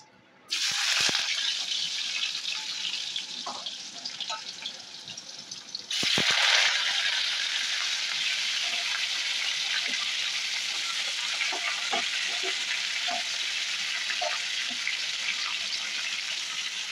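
Sugar heating in a pan gives off a steady, loud sizzle. It starts with a few sharp bursts and then settles into a continuous hiss with faint crackles and no talking.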